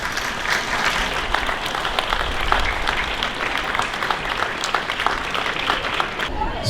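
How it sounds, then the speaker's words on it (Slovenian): Audience applauding at an art exhibition opening for painter Skender Bajrović in Kranj: dense, steady clapping from a crowd that holds at an even level for the whole stretch. "Prosim, da jo pozdravimo z aplavzom."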